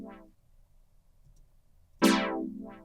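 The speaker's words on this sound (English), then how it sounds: "So this sound coming straight out of the synth sounds like this." Dry synth stab straight from a Wavetable synth: a short plucked chord, then near silence, then a brighter, louder stab with a sweeping tone and another quick hit at the end.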